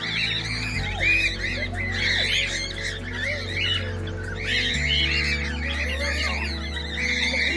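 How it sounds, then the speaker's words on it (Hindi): Several kinds of parrots in a zoo aviary give overlapping squawks and chirps, a busy, bright chorus over a low steady hum. "चिड़ियाघर में बहुत ही अच्छा तोता ग्रह भी है, जहाँ पर विभिन्न प्रकार के तोते हैं"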